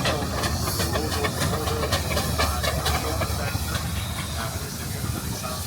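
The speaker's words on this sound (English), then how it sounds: "It's a beautiful example of a Burrell crane engine." A Burrell crane engine built in Thetford, Norfolk, shown at a steam threshing festival, hisses steadily and loudly throughout, with faint mechanical clanking and outdoor crowd murmur underneath.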